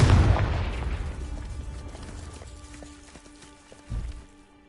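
A loud explosive boom from the Confringo spell in Hogwarts Legacy opens and rumbles away over a few seconds, followed by a smaller thud near the end amid faint game ambience.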